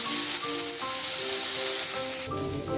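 Soaked, chopped dates fry in a pan over a low to medium flame for date and mango-leather chutney, giving a steady, close sizzle with occasional stirring and no talking.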